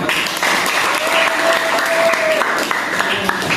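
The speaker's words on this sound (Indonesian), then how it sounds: "Beri tepuk tangan." Sustained applause from a classroom or school audience, steady dense clapping throughout with a faint tonal whistle partway through.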